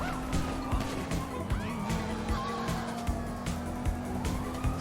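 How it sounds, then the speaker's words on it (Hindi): Police car siren in the video game GTA 5, a wailing tone running through a car chase over a steady engine drone and road noise, with a voice speaking briefly. "सामने से भी एक पुलिस की गाड़ी आ रही है"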